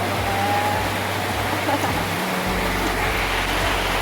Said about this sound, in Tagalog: Grabe, maulan, oh.